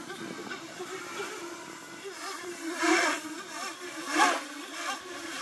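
A 10-inch FPV drone on a Mark4 V2 frame, flown in angle mode through sharp pitch and roll moves during a stress test, gives a steady motor whine that swells in two brief throttle surges.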